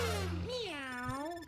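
A single drawn-out, wavering cat meow from Super Mario 3D World on the Wii U, close and clear, with no other talk around it.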